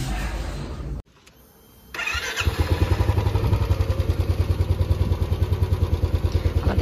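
A motorcycle engine cranks and fires up for a bike ride toward Gangani and Jaypur forest, settling after a brief pause into a close, loud, steady rhythmic idle with clattering pulses.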